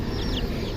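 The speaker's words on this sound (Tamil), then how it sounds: "கவரில் 3 கோழி குஞ்சு வாங்கியிருக்கோம்" Three young chicks cheeping from inside a plastic bag at close range, short high chirps over steady crinkling and rustling.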